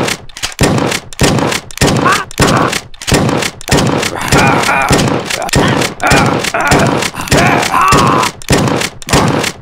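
Shotgun blasts in the video game Redneck vs Zombies, loud booming shots fired in a steady rapid rhythm, about one per half second, each with a short thudding tail, continuous throughout.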